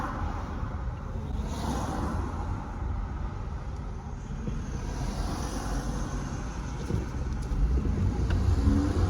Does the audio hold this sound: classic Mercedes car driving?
yes